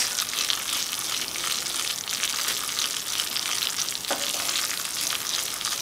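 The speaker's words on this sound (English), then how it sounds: "it looks like the beans is boiling already" Steady, loud sizzling and bubbling from a pot of yellow wax beans on the stove, a continuous frying hiss with a brief stir partway through.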